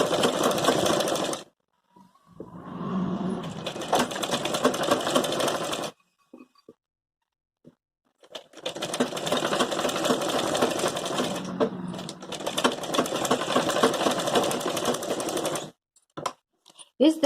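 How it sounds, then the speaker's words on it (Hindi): A sewing machine stitches along the edge of a gown's neckline, made from an old sari, running in two long steady bursts with a short run between them, separated by pauses in which the handling of fabric is faintly audible. "अब मैं इसकी किनार किनार पर सिलाई लगाऊंगी।"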